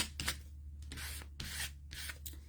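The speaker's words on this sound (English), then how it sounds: "I like to use like my credit card, and really like an old credit card or scraper" An old credit card rubs down glued paper while prepping a leaf journal, giving a few rough, close scraping strokes in an uneven rhythm with no talking.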